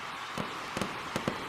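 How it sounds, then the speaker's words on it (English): Fireworks bursting at Daytona in NASCAR Racing 2003, four or five sharp cracking pops spaced unevenly over a constant roaring crowd-like background, mid-distance. "And as the fireworks go off"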